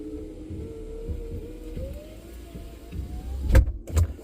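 A 2007 Ford Crown Victoria's power window motor whirs steadily as the glass travels, with a faint rising tone, ending in a couple of soft thuds as the window stops near the microphone.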